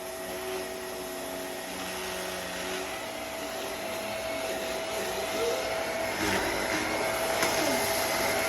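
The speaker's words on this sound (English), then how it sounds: "Vacuum it all up." A vacuum cleaner runs steadily as it sucks up kinetic sand, its constant whine droning loud and close the whole time, rising slightly toward the end.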